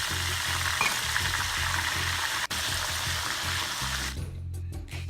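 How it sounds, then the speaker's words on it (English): Plantain slices seasoned with turmeric and salt fry in oil over a low to medium flame, making a steady, close bubbling sizzle that runs throughout with slight variations near the end. "in a very low to medium flame, cook the bananas slowly for about 4 to 5 minutes"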